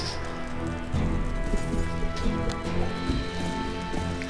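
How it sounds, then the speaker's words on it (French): Horse hooves clop in the Western video game Call of Juarez Bound in Blood, a steady rhythmic gait under game music and ambient sound, with no talk. "Je pars avec le cheval."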